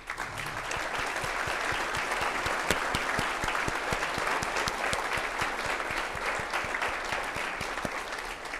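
Audience at a city's 2023 State of the City presentation applauds standing elected officials, a steady wash of many hands clapping at moderate distance, continuous and even throughout with no voices.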